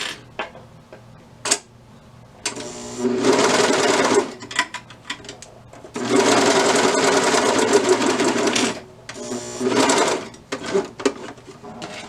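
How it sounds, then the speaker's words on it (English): A sewing machine top-stitches stretch tights in two long runs with short stop-start bursts and clicks between them, close and fairly loud, with no talking. "we will top stitch the other quickly"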